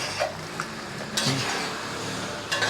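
A utensil stirs melted sugar syrup in a pan, making soft scraping and swishing strokes with a faint sizzle, fairly close and with no voices.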